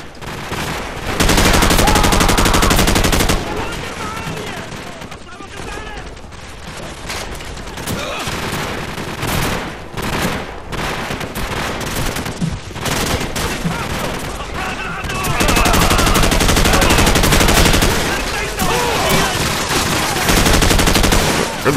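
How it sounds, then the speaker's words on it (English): Sustained gunfire in the game Call of Duty 4: Modern Warfare, dense automatic bursts hammering almost without a break, very loud and close, with the heaviest stretches at the start and near the end. "Where the hell am I getting shot from?"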